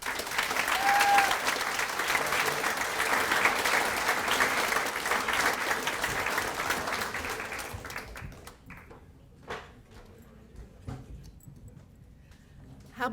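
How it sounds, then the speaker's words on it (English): Applause at an annual scholarship awards banquet, a sustained, fairly loud round of clapping from the crowd that lasts about eight seconds before thinning to a few scattered claps and quiet room noise. "How about another round of applause for Gordon Lefkowitz and Paige Fike?"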